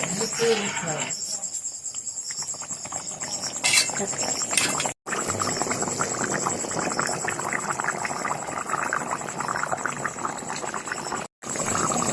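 Mutton kosa curry bubbles and simmers after hot water is poured in, a continuous crackling boil heard close up with a voice talking over it.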